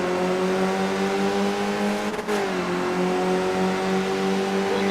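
A race car engine in the iRacing sim game revs hard at the race start, a loud, continuous whining drone with a brief stutter midway before the pitch climbs steadily again, alone without voices.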